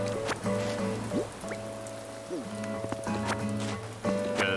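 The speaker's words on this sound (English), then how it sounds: "I could pretty much just keep playing, and it could theoretically just rain all day." Gentle rain pattering steadily in the Animal Crossing video game, with soft droplet ticks over a calm tonal musical background and occasional brief chimes.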